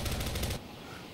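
Rapid gunfire rattles out in the Prop Hunt game, a loud burst of quick repeated shots that stops abruptly partway through, leaving a quieter rumbling tail with no talking.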